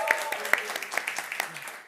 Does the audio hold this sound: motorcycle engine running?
no